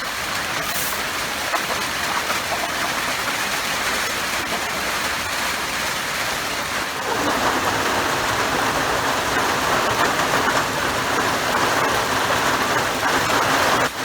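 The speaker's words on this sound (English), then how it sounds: "And the rain's picking up again." Heavy rain pours down steadily outdoors around a backyard chicken flock, a loud continuous hiss that grows denser partway through.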